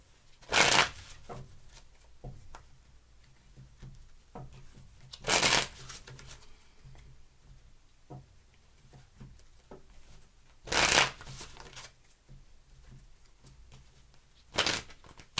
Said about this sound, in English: Give me 3 more shuffles